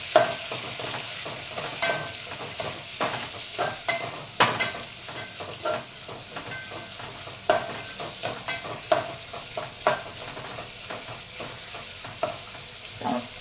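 Tomatoes fry in a pan of spiced rice base, stirred steadily with a spoon that scrapes and clinks against the pan in an irregular rhythm over a continuous close sizzle, with no talking.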